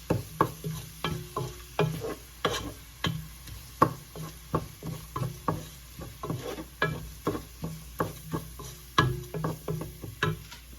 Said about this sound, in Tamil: கோகனட் ஆயிலோட வெங்காயம் ஓரளவு பொடிப்பட்டு வந்து கொண்டிருக்கு